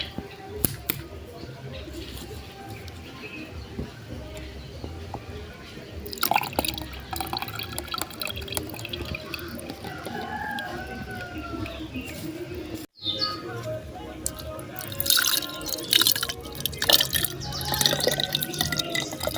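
Water draining and dripping from a container of soaked vegetable seeds, splashy trickles and drips at close range, with a person speaking at times over the sound.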